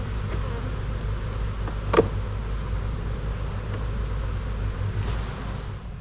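A steady drone of honey bees buzzing all around, continuous and fairly loud over a low rumbling background, with no voices.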